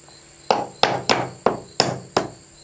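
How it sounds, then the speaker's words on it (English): Six evenly spaced hammer blows ring out on nails while a wooden birdhouse is built, each sharp, close and loud strike about a third of a second apart, with a faint steady whine underneath. "Can you swing that hammer with one hand?"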